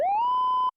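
A synthesizer linear filter with its resonance cranked way up gives a piercing whistling tone that sweeps quickly upward and then holds steady like a siren before stopping abruptly, heard alone without speech.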